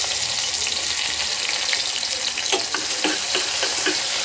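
Tomatoes frying in a pan for a bean curry give a steady close sizzle, with a few soft stirring scrapes and clinks partway through.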